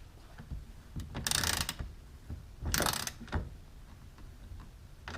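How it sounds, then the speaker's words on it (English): A half-inch socket ratchet tightens bolts on a tonneau cover for a Honda Ridgeline Access Limited truck, giving two bursts of rapid ratcheting clicks close by, separated by quieter handling noises. "here's your half-inch socket to tighten these the top top. ones"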